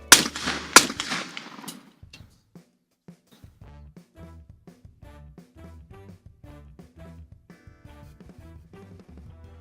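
Shotgun blasts ring out at a skeet shooting final, a few sharp, loud reports packed into the first two seconds, followed by much quieter rhythmic sounds.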